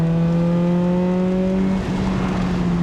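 A Mazda NC Miata drives on a race track: a steady, loud, close engine drone that holds a constant pitch, then briefly dips and resumes as if shifting. No talking.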